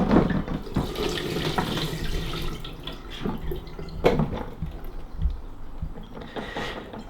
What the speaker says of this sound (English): we're going to turn this upside down over the sink to get rid of all the old water.